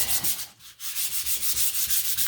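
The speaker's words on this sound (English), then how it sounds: "So take your sandpaper and sand." Rhythmic back-and-forth sandpaper strokes on wood, close and scratchy, with a short pause early on before the steady rubbing resumes.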